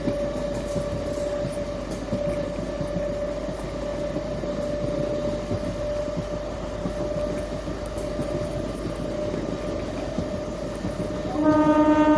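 A MEMU passenger train on the Machilipatnam–Vijayawada line rumbles along steadily with a constant hum and faint wheel clatter, then sounds its horn loudly near the very end.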